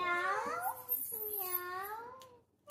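A voice imitates a cat with two drawn-out, rising-and-falling meows, close and clear, followed by a short click.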